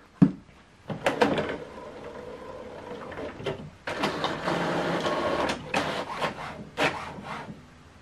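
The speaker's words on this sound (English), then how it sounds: "This document is printing." An HP OfficeJet printer prints a document with irregular mechanical whirs, rubbing feeds and clunks, stopping and starting in bursts at close range.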